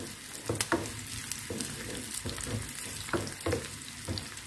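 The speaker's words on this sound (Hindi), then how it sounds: "ये प्याज को मैं ज़रा गोल्डन ब्राउन करके" Onions sizzling in hot oil in a home kitchen pan while cooking khichdi pulao, a steady frying crackle with a few louder stirring scrapes and clatters, close up and without speech.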